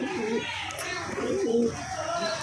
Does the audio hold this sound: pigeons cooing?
yes